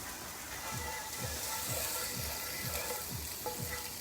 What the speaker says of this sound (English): Don't you love that sizzle?